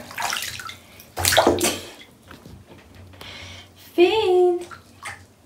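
A ferret is bathed in a tub, with water splashing and sloshing in uneven bursts close by while a person talks now and then.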